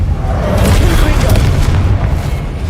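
A Confringo spell explodes in a Harry Potter video game, a loud, deep booming blast with a dense rumbling low end that rolls on for a couple of seconds, with a speaking voice mixed in underneath.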